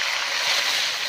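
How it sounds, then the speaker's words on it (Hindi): Steady broadband rush of water poured into a cooking pan of vegetable bhujia, a continuous hissy splash without pauses, close and fairly loud throughout. "अब इसमें मैं थोड़ा सा पानी ऐड करूँगी,"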